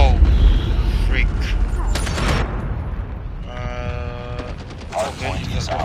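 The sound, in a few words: gunfire in video game Call of Duty Mobile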